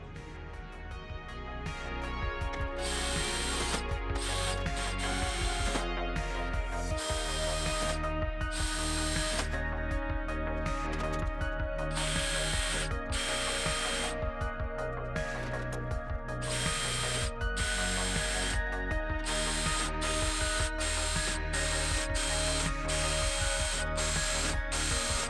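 A power drill buzzes in repeated bursts, starting and stopping over and over as it match-drills holes through aircraft tailcone skins into an angled support, loud and close with no speech.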